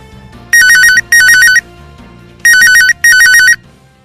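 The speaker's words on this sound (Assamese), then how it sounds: "ফোনটো ৰিং হোৱা শুনি" A loud electronic phone ringtone trills in two paired bursts, each pair a quick double ring separated by a short pause, over a faint background.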